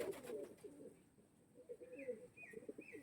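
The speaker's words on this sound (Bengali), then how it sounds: "এটা মাদি পায়রা।" A female pigeon, one of a group of flying pigeons kept for sale, coos in low, soft, repeated rolls at close range, with a few faint higher chirps over quiet background noise.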